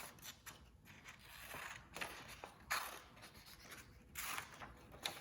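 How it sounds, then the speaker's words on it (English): Scissors cut a paper warp in a zigzag for a paper weaving project, giving a faint, steady run of soft snips and rustling paper, close and quiet, without talk. "This time, I'm going to cut my warp in a fun zigzaggy way."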